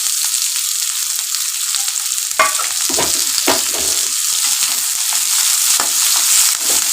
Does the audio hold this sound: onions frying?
yes